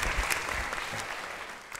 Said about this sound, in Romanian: Aplauze pentru Mirel Popinciuc!